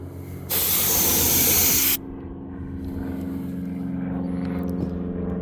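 A spray can hisses in one loud, sustained burst of about a second and a half, painting a Humvee HMMWV rear AC evaporator box, followed by quieter background hum.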